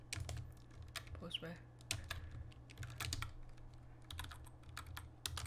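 Rapid, uneven keystrokes clatter on a computer keyboard throughout, close and crisp over a low steady hum, with a brief spoken word in the middle during a Minecraft Hunger Games match.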